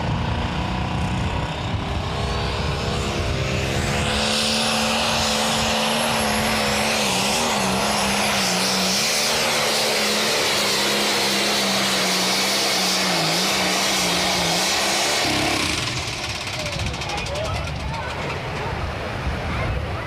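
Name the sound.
pulling tractor engine roaring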